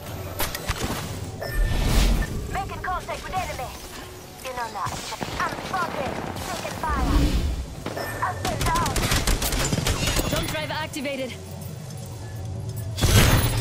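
Repeated gunshots and rapid bursts of fire in the video game Apex Legends, coming in sharp clusters throughout, mixed under lively talking from players.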